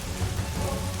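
Heavy rain falls in a continuous, dense roar with a low rumbling undertone, steady and unbroken throughout.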